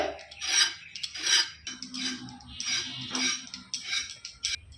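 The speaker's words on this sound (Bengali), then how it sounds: "পটলগুলো এইভাবে চেঁচে নিতে হবে" Repeated rasping scrapes of a knife peeling the skin off pointed gourds (potol) in a home kitchen, coming in short rhythmic strokes close up, with no talking.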